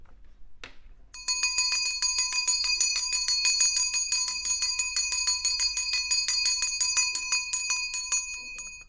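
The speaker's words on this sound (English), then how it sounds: "I'm going to take out the bell again." A small handheld bell rings rapidly and continuously for several seconds, bright sustained tones with a quick tremolo pulse, close and clear after a soft knock at the start.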